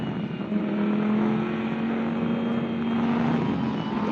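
Lamborghini Super Trofeo race cars circle Portimao at reduced pace behind the safety car, a steady loud engine drone with a sustained low tone that holds evenly throughout, no talk over it.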